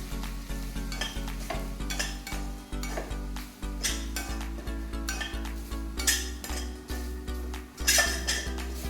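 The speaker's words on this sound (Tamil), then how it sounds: "போட்டுட்டு லைட்டாக கிண்டி விடுங்க." A spoon stirs capsicum usili with ground lentil powder in a metal pan, scraping and clinking against the pan in repeated strokes over a soft sizzle, close and clear with no talk.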